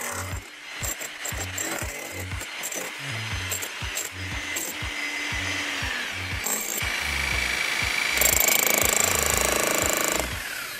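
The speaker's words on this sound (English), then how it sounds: "So I just turned on my jackhammer now" A jackhammer pounds in rapid bursts against brickwork, loud and close, with short pauses between runs and a grinding, rattling clatter throughout.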